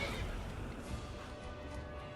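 A horse in the video game Skyrim whinnies faintly amid game noise and a clattering impact, heard at low volume.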